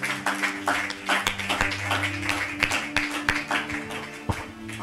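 Congregation at a Bible study clapping together in a lively rhythmic pattern, steady hand claps over a sustained musical drone, close and fairly loud.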